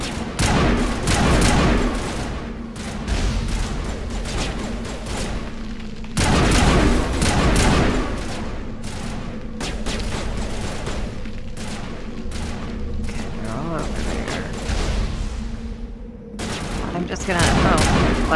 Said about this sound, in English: Why are you shooting my Mako?